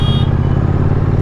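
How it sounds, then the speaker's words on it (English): A car's exhaust note heard up close, a loud, deep, steady rumble with an even throb that holds through the whole brief moment. "Just listen to that bloody exhaust note."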